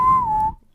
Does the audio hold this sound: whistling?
yes